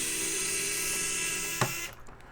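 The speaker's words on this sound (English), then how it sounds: "this drill bit works perfect." A drill fitted with a small bit works on a Dell RX 5700 graphics card. It gives a steady, high, whining spin for about a second and a half, then stops with a click.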